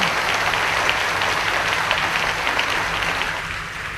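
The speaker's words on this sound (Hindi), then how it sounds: "ताली बजाकर प्रभु का धन्यवाद करेंगे।" A church congregation claps steadily and loudly, a dense continuous applause that fades slightly toward the end, with no voices.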